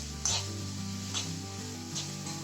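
Garlic-ginger paste being stirred and fried in a pan for a bottle gourd dish, a soft sizzle with a couple of scraping stirs over a steady low hum.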